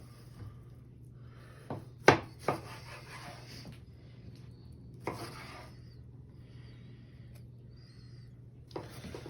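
A kitchen knife cuts a tomato into thirds for a habanero salsa: a few sparse, sharp cuts against a board, fairly quiet over a steady low background hum.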